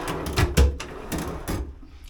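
Several short wooden knocks and slides, like drawers being pulled open and pushed shut, close by in a small room.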